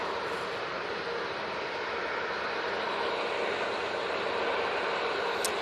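Broadband roar of a Loganair airliner on landing at Manchester Airport, a steady, fairly distant rushing drone that swells slightly toward the end.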